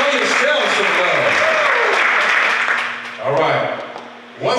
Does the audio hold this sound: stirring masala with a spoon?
no